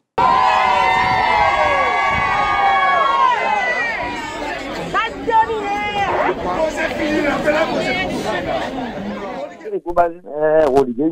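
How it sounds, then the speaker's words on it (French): A protest crowd of more than 1,500 people holding placards shouts in Port-Mathurin, producing a dense, loud roar of overlapping voices and cheers that thins near the end into a few separate shouts. "Ils étaient plus de 1500 personnes à vociférer leur colère, pancarte en main à Port-Mathurin."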